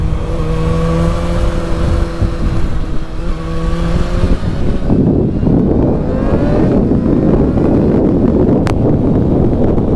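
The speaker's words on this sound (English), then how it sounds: "I love the way that exhaust sounds when I shift" A loud motorcycle exhaust revs and drops in pitch, with a gear change partway through, under steady wind rush while riding Route 66 in Amarillo, Texas; continuous and close throughout.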